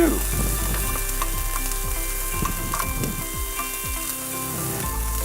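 Onion sizzling in a hot pan for a chipotle chicken casserole, a dense steady crackle up close with repeated scraping stir strokes spread across several seconds and no talking.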